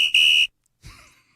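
A whistle blown in a short, sharp shrill blast that stops abruptly, followed after a brief silence by a softer, breathy tone, loud and close.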